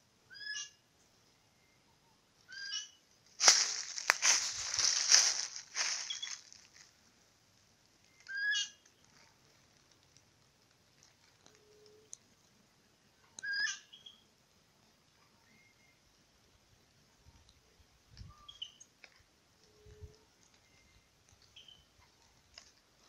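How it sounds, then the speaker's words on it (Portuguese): A small bird in the hilly cerrado gives scattered short calls, separate bursts several seconds apart, with one louder rustling burst near the start and faint background sounds between. "Olha só que passarinho massa, bonito."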